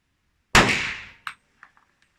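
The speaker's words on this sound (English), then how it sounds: "the bullet is supersonic, and if you pay attention you can actually hear the sonic boom" A single loud, sharp report from a Glock 32 pistol firing a supersonic bullet, close by, with a ringing decay and a few faint clinks and echoes trailing after.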